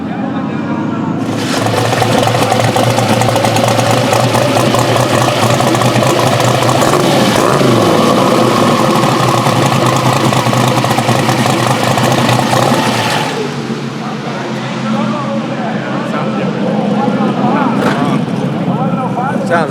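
A drag race car's engine idles loud and close with a rough, lopey rumble for most of the stretch, then cuts out, leaving people talking over background noise at a racing event.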